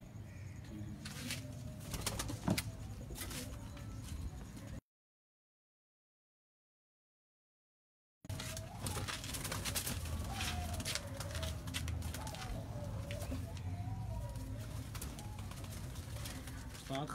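Teddy pigeons coo in rolling low calls at a home loft in DHA, heard steadily before and after a short silent gap, with people talking nearby.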